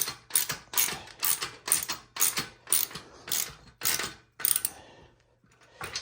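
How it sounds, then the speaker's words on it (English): A ratchet wrench clicks in about nine quick, loud bursts as it tightens a single bolt on the powertrain of a Razor MX electric scooter fitted with a 15 kW motor. The cranking is close-up and steady, then falls quiet at the end. "we need to tighten this all the way down, which is just one bolt because it's got this block here"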